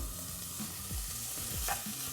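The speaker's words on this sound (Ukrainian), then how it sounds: "Ось так помішуємо це все діло, розрівняємо, щоб у нас рівномірно воно смажилось" Ingredients for Hutsul bograch being stirred in a frying pan, with a steady close sizzle and a few scraping strokes of the spoon across the pan, no talking.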